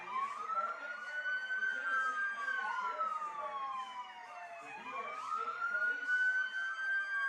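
Emergency vehicle sirens from fire department, police and ambulance units on display at a baseball game, wailing up and down in sweeping overlapping tones, loud and fairly close, with no one talking.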